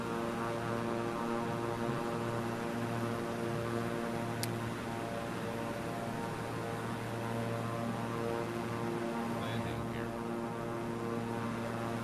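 Steady, loud droning hum of a propeller aircraft engine in flight after takeoff, heard from inside the cabin as a constant tonal roar throughout, with a brief click partway through.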